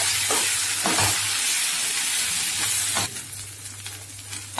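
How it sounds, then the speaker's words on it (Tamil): Ground ginger paste with turmeric sautés in a pan with a steady sizzle and hiss, broken by several sharp stirring scrapes and clinks, close and fairly loud, softening slightly toward the end. "இப்போ இந்த அரைச்சத இதல போட்டுறலாம் போட்டுட்டு நல்லா வதக்கிக்கலாம்"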